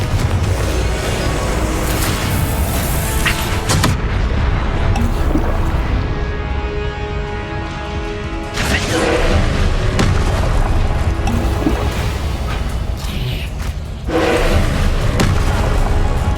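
Confringo blasting spells detonating in Hogwarts Legacy, a dense run of loud booming explosions with crackling debris, with a big burst near the start and more around the middle and end, all amid constant game noise.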